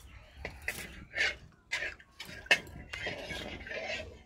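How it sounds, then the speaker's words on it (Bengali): A knife slicing through a fried wheat-flour and potato snack, giving a quiet series of irregular taps, scrapes and clicks against the surface, with short pauses between cuts. "এবার আমি এটাকে ছুরি দিয়ে কেটে নেব"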